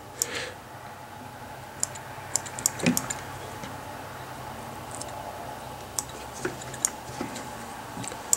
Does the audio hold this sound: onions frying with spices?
no